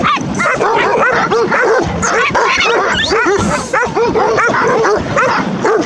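Romanian shepherd dogs bark steadily and loudly at a sheep fold near Cocora, several dogs overlapping in a continuous chorus with yips and whimpers, no pauses.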